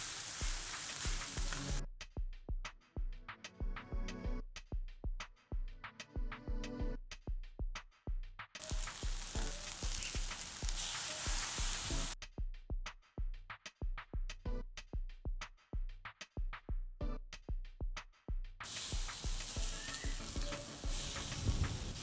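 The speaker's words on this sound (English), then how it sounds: "After 5 minutes, add the steaks. Cooking time 4 to 5 minutes." Steaks cooking on a barbecue grill alongside chicken and meatball kebabs, bursts of loud hissing sizzle alternating with stretches of rapid scraping or clattering strokes, no voices.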